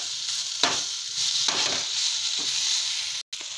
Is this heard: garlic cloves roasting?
yes